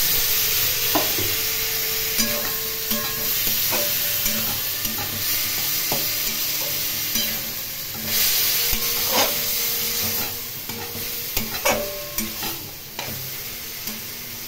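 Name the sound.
pumpkin and potato being stir-fried in a pan with a little water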